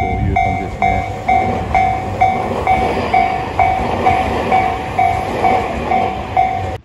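A Tobu railway train rolls through a level crossing near Tobu-Dobutsu-Koen station, its loud clattering wheels heard under the steady repeating ding of the crossing bell.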